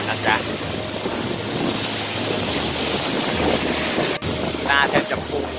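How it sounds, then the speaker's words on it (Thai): Strong gusty wind during heavy rain at a national park waterfall, a loud steady roar buffeting the microphone throughout, with brief faint bursts of sound near the start and end. "รายงานตัวสถานการณ์ตอนนี้มีลมแรงมากจากฝนตกหนักนะจ๊ะ"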